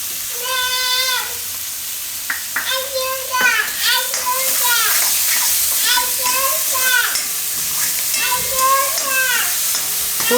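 Chopped vegetables sizzle in hot oil as they are stirred in a pan with salt, a steady frying hiss running beneath loud, tonal, voice-like bleating calls that rise and fall repeatedly in the foreground.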